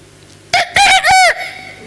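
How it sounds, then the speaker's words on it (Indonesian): An Indonesian village chicken (ayam kampung) crows loudly nearby, one long drawn-out call broken into several rising and falling segments, with a faint hum before and after. "Itu ayam kampung."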